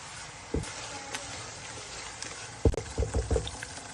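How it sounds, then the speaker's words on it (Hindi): Ground tomatoes are poured into hot oil in a pan, giving a background sizzle broken by a few sharp splats and a cluster of wet plops near the end. "मैंने टमाटर ग्राइंड किए हैं छोटे साइज के, वो मैं डालती हूँ।"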